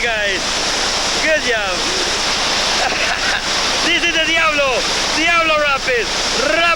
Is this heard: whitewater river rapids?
yes